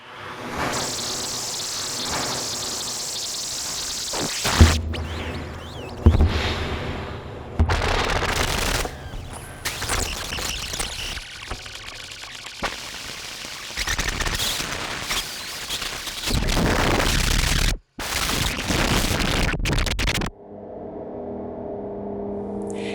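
Chaotic electronic oscillators on a modular synthesizer, randomized by an ascending threshold on a pressure sensor mounted on brass valves, give dense, shifting noisy textures that cut in and out abruptly, ending in a quieter low hum.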